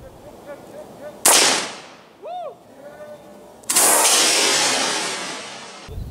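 Two loud pump-action shotgun blasts boom close by, each followed by a long roaring decay, with a short warbling tone in between.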